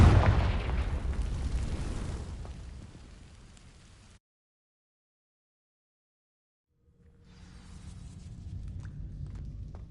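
Blasting spell explosion in Hogwarts Legacy, cast at dry vines: a loud rumbling burst that fades into a few seconds of silence before low ambient rumble returns.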